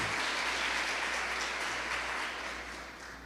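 A church congregation applauding, dense sustained clapping from many hands that fills the room and slowly fades toward the end.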